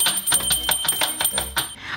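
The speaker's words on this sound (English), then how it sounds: "Oh, that's the school bell." A toy school bell from a children's toy playset rings in a rapid, steady metallic trill lasting nearly two seconds, close and fairly loud, then stops.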